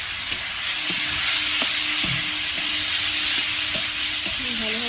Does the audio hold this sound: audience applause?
no